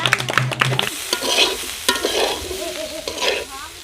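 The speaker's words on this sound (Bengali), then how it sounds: "সবজি ভাজা হয়ে গেছে, নামিয়ে নেব।" Vegetables stir-fried in a pan for noodles sizzle steadily as a utensil scrapes and stirs, with clattering strokes near the start and a continuous frying hiss throughout.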